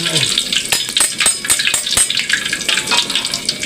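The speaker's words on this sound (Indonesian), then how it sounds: "Goreng asin" Salted fish frying in hot oil, a loud continuous sizzle with repeated clacks and scrapes of a spatula stirring in the pan, close up and without talking.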